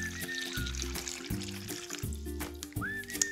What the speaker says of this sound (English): I'm going to pour 2 cups of water into my bag.